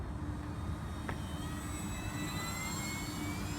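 An RC P-51D Blondie 1.2m model airplane with a 13x6.5 propeller flies on electric power at night, its rising whining drone sweeping past over steady wind rumble, loud and fairly near.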